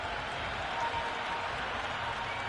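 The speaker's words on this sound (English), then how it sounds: "Excellent crowd in this morning." A cricket crowd applauds in the video game Cricket 26, a steady, even wash of distant clapping and stadium murmur that holds without break.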